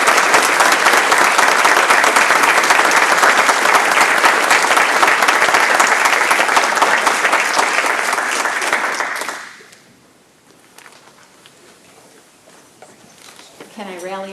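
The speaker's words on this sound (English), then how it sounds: "I think another round of applause for everybody." Loud, sustained applause fills a school district board meeting in Ripon for about nine seconds, then cuts off abruptly and leaves only quiet room noise and faint movement.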